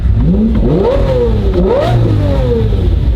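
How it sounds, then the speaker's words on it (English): A car engine revs loudly and repeatedly at a car meet, its pitch sweeping up and falling back several times, close to the microphone. "Give it some revs."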